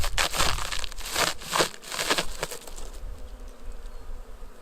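Honeybees at an open beehive during a hive inspection: close, dense buzzing with rustling and crinkling handling noises in the first few seconds, then a fainter steady hum.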